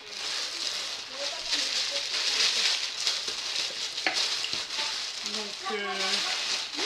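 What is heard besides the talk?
plastic package bag rustling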